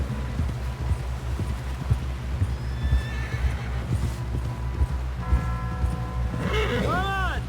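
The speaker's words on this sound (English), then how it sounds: "Someone help John down off this horse" In the video game Red Dead Redemption 2, a horse whinnies loudly near the end over steady clip-clopping hooves and a low rumbling background; voices can be heard talking throughout.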